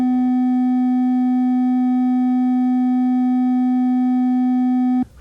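A steady 250 hertz sine test tone holds at a loud, constant level with no variation for about five seconds, then cuts off abruptly.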